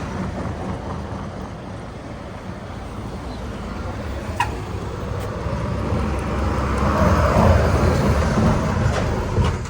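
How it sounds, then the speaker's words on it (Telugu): Amaravati Garuda buses pass on a highway: a continuous broad roar of traffic and rushing wind that swells louder toward the end as vehicles go by. "అమరావతి ఆ గరుడ బస్సులు"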